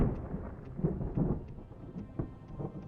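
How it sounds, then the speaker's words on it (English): Heavy rain pours steadily in the game Captain of Industry, a dense broadband wash with low thunder-like rumble and occasional louder gusts, with no talking over it. "Some heavy rain going on."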